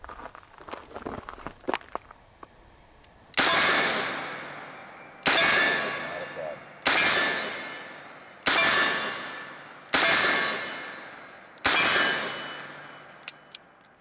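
Six double-action shots from a Smith & Wesson Governor revolver firing .45 Long Colt, each a sharp loud crack with a ringing decay, evenly spaced about a second and a half apart after some quiet handling clicks.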